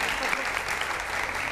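Dense audience applause for a live band on a TV show stage, a steady wash of many hands clapping, loud and close, with no pauses across the short stretch.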